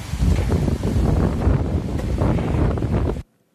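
Strong, roaring wind buffets the microphone in continuous gusts, loud and close, before cutting off abruptly.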